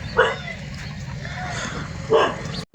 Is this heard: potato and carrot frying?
no